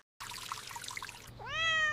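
A cat on a roof gives one rising, drawn-out meow, loud and close, heard after a stretch of trickling, splashing water.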